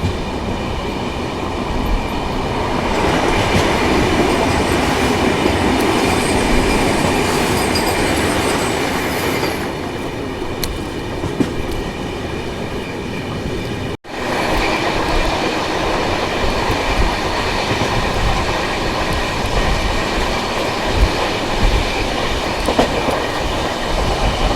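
The Sampark Kranti Express rolls along the rails with a steady, loud rumble and rhythmic clickety-clack of wheels, a faint squeal in places and a brief dropout midway, with no talking.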